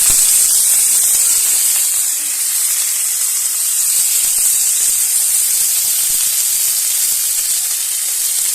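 Shredded cabbage sizzles steadily in hot oil for chicken momo, a loud, continuous frying hiss with no pauses, close up and alone.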